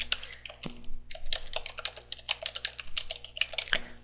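Quick bursts of keystrokes on a computer keyboard as a command is typed, crisp close clicks in uneven runs with brief pauses, loud and alone without talking.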